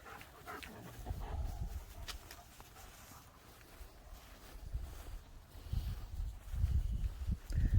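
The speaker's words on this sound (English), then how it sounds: "You might adopt the neighbor's dog." A neighbor's dog outdoors, a few quiet, distant low barks and whimpers that rise toward the end over soft ambient noise.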